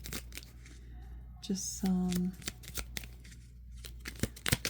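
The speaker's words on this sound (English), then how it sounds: "So first I'm going to shuffle" Oracle cards being shuffled by hand for a pick-a-card tarot reading, a run of quick papery riffles and snaps close up, with a short stretch of speech in the middle.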